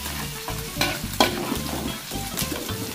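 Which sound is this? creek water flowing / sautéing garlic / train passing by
sautéing garlic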